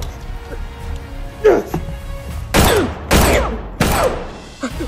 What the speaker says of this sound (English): Do you really think gunshots will stop me?